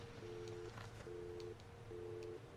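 A dead-line phone tone in the video game Alan Wake: three faint, evenly spaced flat electronic beeps, each lasting about half a second, over a quiet low hum.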